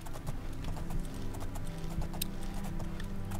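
Horse hooves clip-clopping in The Elder Scrolls IV: Oblivion, a steady rapid trot of hoofbeats continuing throughout, fairly close and even, with no talking.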